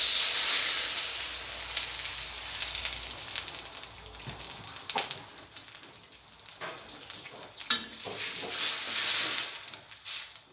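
Water added to a hot pan for baked prawns with glass noodles, giving a soft, steady hiss and bubbling sizzle with scattered faint clicks and taps, moderately quiet and without speech.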